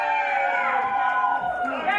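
A wrestling crowd at an FMLutte number-one contender match cheers and shouts loudly in a dense, continuous roar, with whoops and higher voices rising throughout the short burst.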